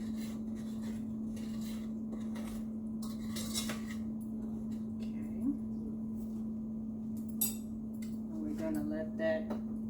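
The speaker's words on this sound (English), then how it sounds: "just continually stir until everything is combined" A spoon scrapes and clinks against a pot while butter cake syrup is stirred over a low fire. The stirring is soft and steady under a constant hum, with a few sharper clinks and a voice near the end.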